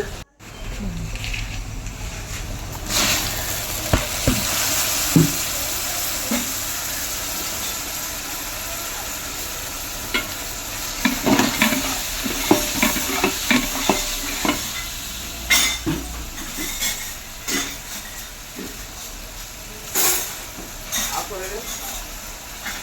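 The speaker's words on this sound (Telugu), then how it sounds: "ఆనియన్స్ ఒక పక్కే ఫ్రై అవ్వకుండా మొత్తం తిప్పుతూ ఉండాలి" Steady sizzling of onions and tomatoes frying in a pan, with repeated scraping and stirring knocks throughout, close and fairly loud.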